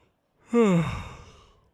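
A person lets out a big, drawn-out yawn during a live football watchalong, a single voiced breath that starts loud, slides down in pitch and fades into a breathy exhale over about a second.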